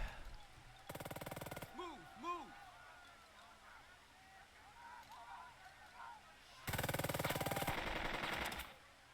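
Two long bursts of rapid MG42 machine gun fire in the WWII tactical game Burden of Command, separated by a quieter stretch of distant honking, warbling battlefield sounds.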